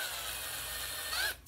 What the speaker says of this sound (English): what I'm gonna do is drill a pilot hole first